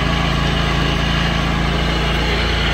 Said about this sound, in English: It's a nice fast mower.